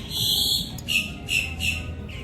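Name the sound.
several birds squawking outdoors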